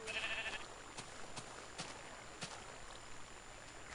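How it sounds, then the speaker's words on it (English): A single sheep in a pen in Minecraft gives a short, faint bleat near the start, and a few soft clicks follow over a quiet background. "That's a perfectly calm sheep just mind his own business in his pen, knows where he's supposed to be."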